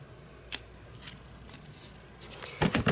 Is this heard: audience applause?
no